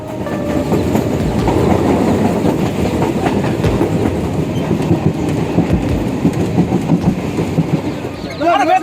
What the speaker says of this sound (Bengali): আমাদের ট্রেন ছেড়ে দিল শিয়ালদাহ সাউথ সেকশনের পনেরো নম্বর প্ল্যাটফর্ম থেকে